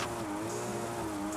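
A stock-engined GR Supra A90 in Forza Horizon 5 holds high revs against the limiter, a steady, loud, strained engine tone with a slight buzzing stutter throughout the short burst, no talk over it.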